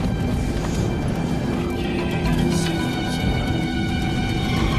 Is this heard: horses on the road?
yes